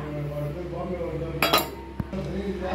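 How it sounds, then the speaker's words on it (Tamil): Semolina (rava) going into a pot during pongal cooking, heard as light metal utensil clinks, a short rushing pour about midway, and a sharp clink afterward over a steady kitchen hum. "இப்போ நம்ம இந்த ரவையை போட்டுடலாம்."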